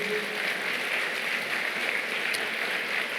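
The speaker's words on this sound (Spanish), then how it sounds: "Dale un fuerte aplauso a nuestro Dios." Applause for God at a Spanish-language church sermon, a steady, fairly soft wash of clapping from the congregation that holds evenly for about three seconds with no speech over it.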